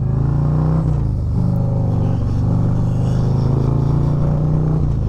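A 2024 Harley-Davidson Street Glide motorcycle is ridden under throttle, its engine giving a loud, steady, deep rumble heard close up from the saddle with no voices.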